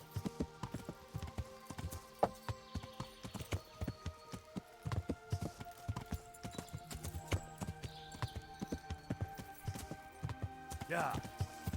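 Horse hooves clip-clop in the video game Kingdom Come: Deliverance, a steady, fairly close rhythm of hoofbeats along a road with a brief whinny near the end, while someone talks intermittently over it.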